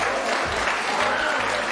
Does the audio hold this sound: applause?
yes